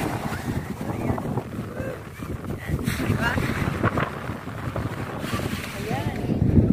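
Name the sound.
strong wind outside in the early morning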